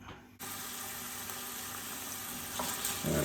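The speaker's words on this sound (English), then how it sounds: "I'll put the bacon in first because I want it to crisp up a little bit." Bacon hits a pan for a lasagna and bursts into a sudden loud sizzle that holds as a steady, close hiss with some crackling, with nobody talking.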